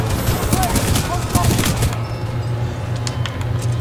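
Bursts of rapid gunfire from a gun in the shooter game Titanfall 2, several sharp sharp cracks in the first two seconds before fading to quieter game ambience, with a voice talking over it.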